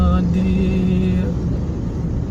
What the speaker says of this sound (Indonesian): Tampaknya tol Jagorawi agak sedikit padat ini